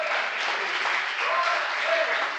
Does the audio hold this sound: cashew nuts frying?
no